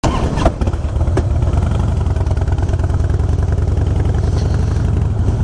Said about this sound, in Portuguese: mais um motociclista aí, a BMW dele